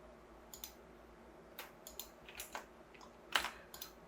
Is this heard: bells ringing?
no